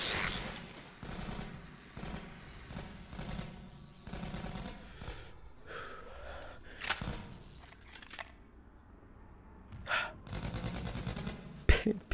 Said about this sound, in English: Oh, wait, I hear her shooting.